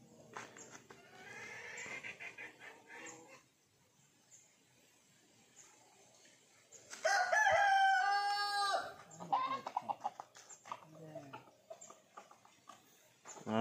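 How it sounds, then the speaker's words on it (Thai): A live decoy rooster set out for snaring wild junglefowl lets out one loud, drawn-out crow midway, with softer clucks and calls before and after in a quiet outdoor setting. "นี่เป็นไก่ต่อเรานะครับผมนะ"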